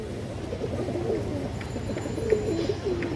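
An old-line pigeon with kajol markings and a boot beak coos softly nearby, a few low throaty coos over a steady background of other birds.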